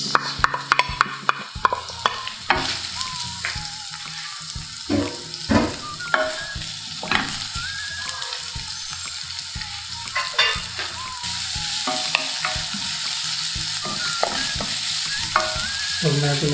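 Garlic and onions sauté in a pan for a sweet and sour lapu-lapu dish, a steady frying sizzle running throughout with repeated scraping stirs of a utensil and no talking.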